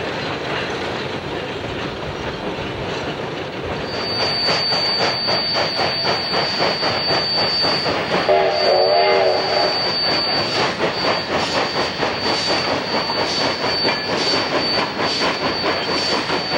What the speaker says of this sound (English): At last, the train pulls into Durango.